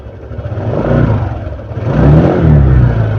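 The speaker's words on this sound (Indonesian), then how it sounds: "kita mau lihat dulu nih di bagian putaran mesin ketika kita ngegas apakah ini ada perubahan ya" A fuel-injected motorcycle engine revs up twice on the throttle during a diagnostic scanner check, loud and close, the tone rising and falling with each blip, no talk.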